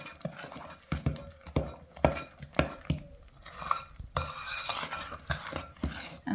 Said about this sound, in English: Now we just need to stir that together.